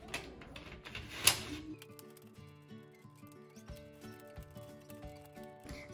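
Plastic Guess Who board game character tiles flipped up one after another, a quick run of light clicks and taps over soft background music.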